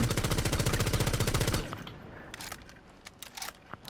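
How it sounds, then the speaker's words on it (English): Automatic gunfire in Rainbow Six Siege: a loud, rapid burst of evenly spaced shots for about a second and a half, then a few scattered clicks and taps. "Now shoot your gun again"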